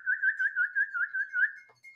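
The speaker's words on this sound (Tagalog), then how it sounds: "Sipol ka ulit, sipol ka." A person whistles a quick, warbling run of short trilled notes at one steady pitch, fairly close and clear, ending in a brief pause and a single short held note.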